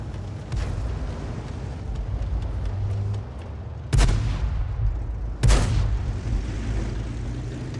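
Artillery fire from a Hummel self-propelled gun in World of Tanks, heard as two distant booming thuds a little over a second apart over a steady low battle rumble.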